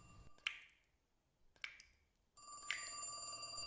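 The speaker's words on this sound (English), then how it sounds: "I didn't even hear the phone ring at first, but then I heard it loud and clear" A telephone in The Cat Lady rings in three sharp, bright trills spaced about a second apart, close and clear against a quiet, then faintly humming background.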